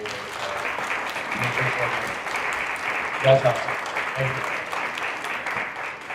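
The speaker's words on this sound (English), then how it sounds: "I just want to take a moment here to really give them a round of applause." Audience applause fills a public planning meeting for a town master plan, a continuous wash of clapping with a brief spoken word cutting through near the middle.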